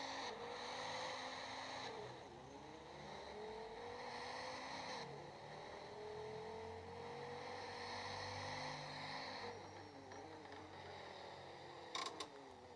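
A Mercedes A45 S 4MATIC accelerates hard from 0 to 100 km/h, its engine note climbing through gear changes with brief dips between shifts, recorded faintly from inside the car.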